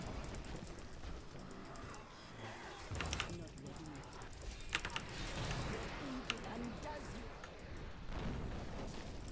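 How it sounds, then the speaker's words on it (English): Explosions in the hardcore Witch Doctor play of Diablo 3 Reaper of Souls: dense, busy combat noise with repeated sharp bursts and rumbling blasts that run steadily through the whole stretch. "Let's wait for all those explosions to finish before we go barreling through."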